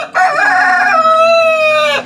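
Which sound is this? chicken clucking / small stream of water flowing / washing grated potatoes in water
chicken clucking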